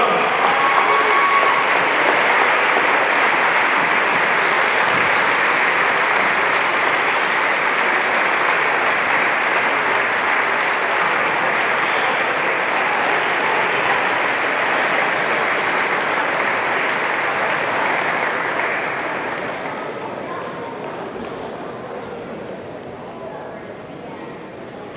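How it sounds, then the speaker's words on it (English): A large audience at a freshman orientation closing ceremony applauds, welcoming arriving students with sustained, loud, even clapping for about twenty seconds before it thins out and fades. "Let's give them a big round of applause."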